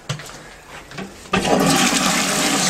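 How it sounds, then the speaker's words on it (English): A toilet flushing up close: a few soft knocks of the handle, then a sudden loud rush of water that keeps roaring steadily to the end. "Yeah, the dunny can. Let's flush it."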